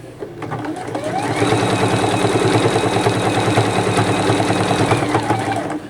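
A Juki HZL-F300 sewing machine with a leveling foot and a size 12 topstitch needle stitches through four layers of thick fabric, its loud, close motor humming steadily with a rapid mechanical needle chatter that ramps up and holds.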